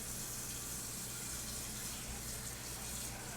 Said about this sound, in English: I'm going to fill it with regular water